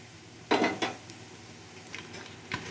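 Whole garam masala dropped into hot ghee and oil in a pan, a couple of sharp metallic clinks and clatters over a low steady background sizzle, close by with no talking.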